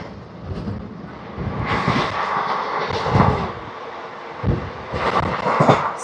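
Palnadu SF Express (12747) runs at speed through Charlapalli railway station, heard from onboard as a broad, roaring rumble with repeated heavier thumps and surges of rattling over several seconds.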